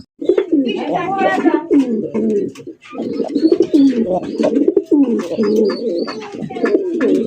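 Pigeons coo repeatedly at close range, deep throaty rolling calls overlapping throughout, with a voice talking among them.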